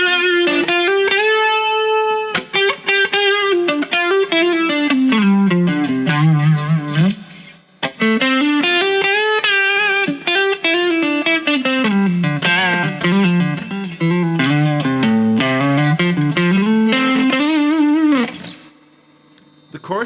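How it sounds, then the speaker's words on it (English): Electric guitar lead lines played through chorus and drive pedals on a Paisley channel, shimmering sustained melodic phrases with bends and a thick, modulated overdriven tone, loud and alone. "So let's stick on Paisley channel 1 with the chorus. It sounds like this."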